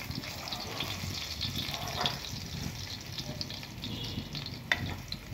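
Garlic and onion sautéing in a pan for a simple home-cooked spaghetti, a steady close sizzle and frying crackle with occasional stirring scrapes throughout, no talk.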